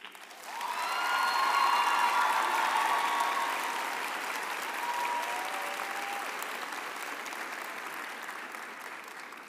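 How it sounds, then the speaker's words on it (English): Graduates at a university graduation ceremony applaud their families, a hall full of clapping that rises quickly, peaks with a few scattered cheers and whoops, then holds a long steady ovation that slowly thins. "I would now like to ask our graduates to applaud their families, friends, and partners or spouses for their support over the years."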